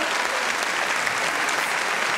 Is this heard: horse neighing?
no